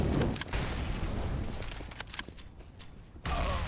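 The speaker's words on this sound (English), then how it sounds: "Nice little nade coming out from him as well." A grenade goes off in Counter-Strike on the Cobblestone map, with a sharp burst of bangs and gunfire crackle up close, dense noisy hits throughout and a fresh loud blast near the end.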